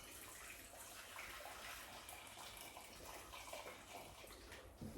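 Hot potato cooking water pours steadily from a pan into a sink as the potatoes are drained for a roast dinner, a continuous close gushing splash throughout.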